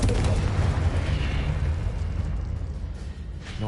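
A Confringo blasting-spell explosion in a Harry Potter video game: a loud, deep boom with a rumbling low end that slowly decays over several seconds, with no voices.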